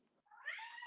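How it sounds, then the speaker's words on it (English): A cat meows once, a rising then falling mew close by, preceded by a brief low murmur. "Yes, you can hear there's a cat there."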